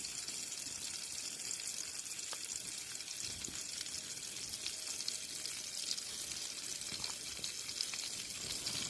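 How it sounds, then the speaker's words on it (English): Onions frying in a pan at a wild camp give a continuous, even sizzle with a faint hiss throughout, steady in level with no talking. "I'm going to fry some of them onions off, I think."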